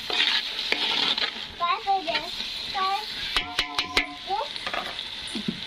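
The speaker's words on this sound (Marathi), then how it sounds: "तर आपण आता हे मसाले ह्यात सगळे टाकून घेतोय" Spices go into a pot of oil for a Maharashtrian mutton dish and are stirred with a steady sizzle, while utensils clink and people talk over the cooking.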